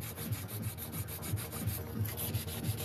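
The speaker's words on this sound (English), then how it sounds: "I'm going to file those cuticles." Nail file rubbing quickly back and forth over fingernails and cuticles, a close, steady series of short scratchy strokes with no talking.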